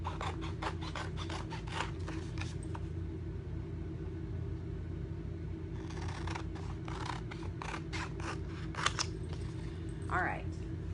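Scissors cutting apart a Chalk Couture transfer, heard as quick bursts of close snipping and rasping strokes in two runs with a pause between, over a low steady background hum.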